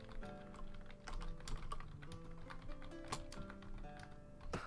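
Typing on a computer keyboard, a fast irregular stream of close, crisp key clicks continuing throughout with a light background hum and no talking.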